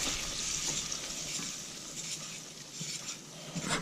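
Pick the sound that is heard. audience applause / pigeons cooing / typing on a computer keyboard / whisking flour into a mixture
whisking flour into a mixture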